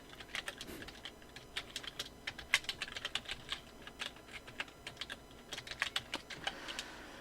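Fast, irregular keystrokes on a computer keyboard, close and fairly quiet, clicking steadily in short bursts and runs throughout with no voice heard.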